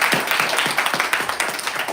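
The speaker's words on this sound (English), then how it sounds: "Stephen Wolfram, with a warm round of applause" Warm round of applause from a hackathon audience greeting Stephen Wolfram before an AI-for-physics talk: steady, dense clapping filling the room, fairly close and loud throughout.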